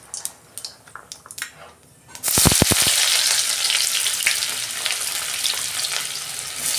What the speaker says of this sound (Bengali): তেলে আমি জিরে দিচ্ছি, সবজিগুলো ভাজবো